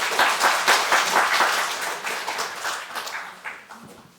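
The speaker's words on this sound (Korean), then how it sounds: "자, 박수로 격려해 주시기 바랍니다." A church congregation claps to encourage someone stepping up to speak, a loud burst of many hands that gradually thins and fades, with some scattered claps at the end.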